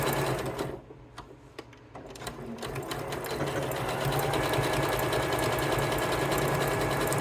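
A sewing machine runs a wide zigzag stitch along a swimsuit seam, starting with short bursts and then settling into a steady, fast, close-up whir without a break.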